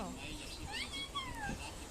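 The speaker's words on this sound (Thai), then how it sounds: "สวยมากเลยแมวแมว น่ารักจัง" A cat meows in a couple of short, rising-and-falling calls close by, while people chat over it in a busy outdoor setting.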